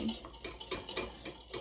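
Dalgona whipped coffee made with ground coffee gets mixed with a utensil in a cup or bowl, a quick series of close, rhythmic metallic clinks and scrapes.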